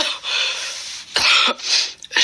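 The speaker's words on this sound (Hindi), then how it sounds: "मुझे बहुत जोरों से खांसी आ रही है और सांस लेने में भी दिक्कत हो रही है।" A woman coughs hard in several bursts, harsh and close, with rough breathy fits running together and short gaps between them, no speech.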